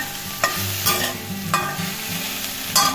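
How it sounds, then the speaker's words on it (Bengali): Soybean chunks fry in a pan for fried rice, a steady sizzle broken by several sharp scraping stirs of a spatula at a regular pace, close and fairly loud, with no voices. "আজ আমি একটু ফ্রাইড রাইস রান্না করছি, সেটা আপনাদের সোয়াবিনটাকে ভালো করে ভেজে নিচ্ছি।"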